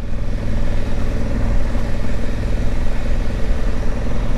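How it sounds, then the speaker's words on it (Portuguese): A Honda Africa Twin motorcycle engine runs close and loud with a steady, rough mid-pitched drone that shows slight surges in level but no clear rev peaks. "chega de acelerar, senão vai estragar a moto"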